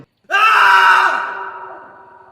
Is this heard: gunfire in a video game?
no